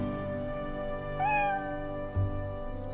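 A cat meows once in a role-playing video game, a short rising and falling call standing out clearly over steady background music.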